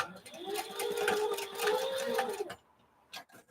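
A sewing machine runs steadily for about two and a half seconds, stitching long curtain panels together, then stops abruptly, leaving a few faint handling clicks in a quiet room.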